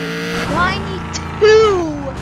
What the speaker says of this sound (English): That's a lot of acceleration this car has.